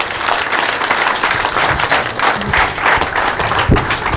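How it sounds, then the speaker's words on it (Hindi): Audience applause at an arts academy award ceremony in Rajasthan, a dense, steady burst of clapping from a crowd that carries on loudly for several seconds. "बजरंग जी के लिए जोरदार तालियां।"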